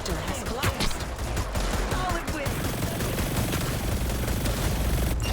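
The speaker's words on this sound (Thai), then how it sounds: "มีคนยิงมาข้างหลังวะ" Dense bursts of automatic gunfire from behind in the shooter game Hyper Scape, loud and sustained, mixed with other shots and game effects, with players talking over it.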